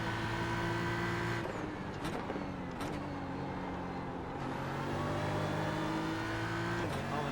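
A GT race car in iRacing at Watkins Glen holds a steady engine drone, rising and dipping with throttle and gear changes, with sharp shift breaks partway through; the sound runs continuously at moderate volume with no talking.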